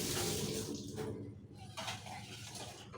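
Hands washed under a running kitchen tap, a steady close broadband rush of water with slight shifts in flow, no talking.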